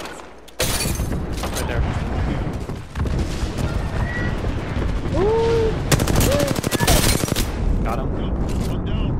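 Rapid video game gunfire crackles in bursts throughout an online shooter match, dense and close, while players talk over it.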